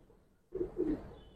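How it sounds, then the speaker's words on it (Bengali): A female giribaz pigeon gives two close, soft low coos right after a quiet start, the second slightly longer, alone without speech. "এটা একটা মাদি কবুতর।"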